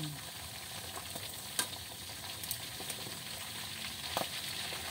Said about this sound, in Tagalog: So ito guys, piniprito ko pa yung itik.